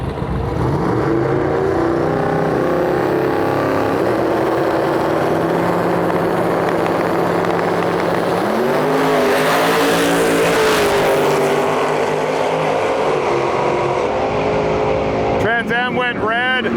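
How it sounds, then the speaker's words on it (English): A Trans Am WS6 and a split-bumper Camaro drag race at Gainesville Raceway, with loud sustained engine roar and rising revs, under steady commentary. "Split bumper Camaro in our lane. Look at this thing. Far side of the track, Trans Am WS6."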